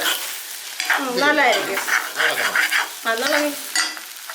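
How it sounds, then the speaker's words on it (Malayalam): A spatula stirs and scrapes egg stir-fry (mutta thoran) in a hot wok, faint sizzling and scraping mostly buried under someone speaking close by. "നന്നായിട്ട് ഇളക്കാം"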